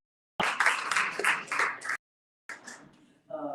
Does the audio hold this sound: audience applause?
yes